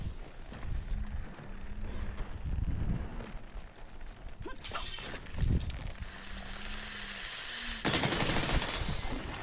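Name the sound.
Dragon Piercer bowgun firing in Monster Hunter World video game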